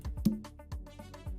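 Three or four short, pitched hits from a second conga drum sample, part of an Afrobeats beat built in FL Studio, sound quietly and cleanly, evenly spaced in a brief phrase with no voices.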